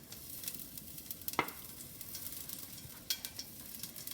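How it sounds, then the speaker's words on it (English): Cumin seeds and hing sizzle and crackle in hot oil in a pan, with a steady soft fry broken by a few sharp scraping stirs, close and fairly quiet with no voices. "now I am doing the stir fry onion and tomatoes"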